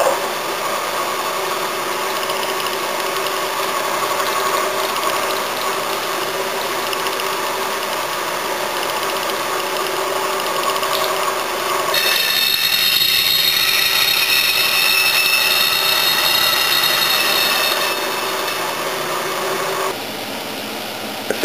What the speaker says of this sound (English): I'm going to run this 1/4 inch drill at 660.